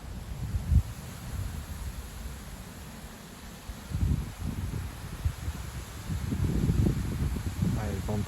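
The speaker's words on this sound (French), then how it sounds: "Ça souffle encore." Strong gusting wind roars and buffets the microphone, a low, rushing rumble that swells in surges, growing heavier toward the end.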